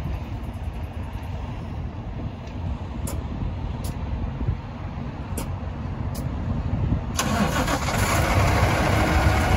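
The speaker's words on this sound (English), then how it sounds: "He's gonna get the tractor started." A semi tractor truck engine starts with a cranking burst, then settles into a steady, close diesel rumble that grows slightly louder at the end. The setting is a truck driving lot set up for alley docking.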